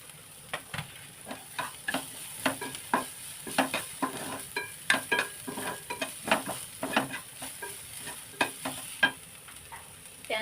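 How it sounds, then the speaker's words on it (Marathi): Chopped onion sautéing in a spoonful of oil, a continuous soft sizzle broken by frequent rhythmic scraping and stirring strokes of a spoon against the pan, close and without speech. "थोडं तेलामध्ये परतून घ्यायचं व्यवस्थित"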